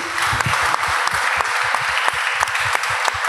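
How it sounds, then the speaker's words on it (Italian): Audience at a school talk on conflict mediation applauding, a steady, dense round of clapping at close range with individual claps standing out, no voices over it. "Farei a tutti e due un applauso"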